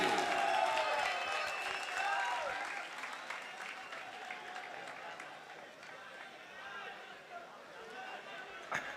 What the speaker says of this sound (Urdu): بھرپور تالیوں میں استقبال کیجئے